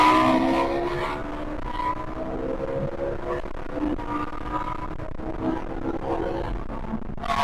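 A Ferrari 458 with its V8 engine accelerating hard on an open road, a loud continuous roar with rising and shifting engine tones throughout, close to the car and without speech.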